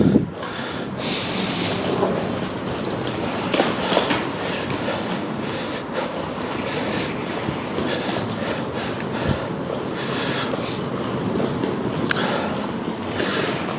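A train rumbles through Dundee station on the East Coast Main Line as the 7:25 service to Aberdeen, a steady continuous roar with wind buffeting the microphone.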